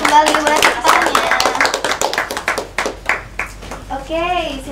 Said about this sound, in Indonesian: boleh tepuk tangannya